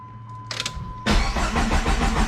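An orange Dodge SRT-4 with a swapped transmission cranks briefly and then fires, settling straight into a loud, steady idle close to the microphone.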